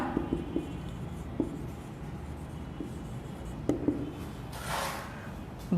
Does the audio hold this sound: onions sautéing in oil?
no